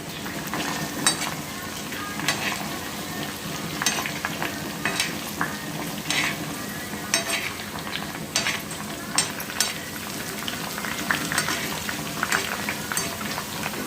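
Homemade herbal hair oil sizzles and bubbles steadily in a pan while a spoon stirs and clinks against the metal.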